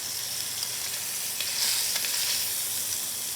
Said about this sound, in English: Sear each side for 3 minutes to get a nice dark brown crust